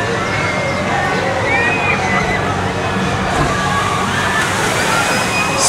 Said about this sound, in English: It's a raft style ride where you actually go down the drop and splash down, getting soaked.